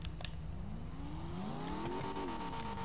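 Car engine in the video game GTA revving up, its pitch sweeping upward and then holding, with steady driving noise throughout and no talk.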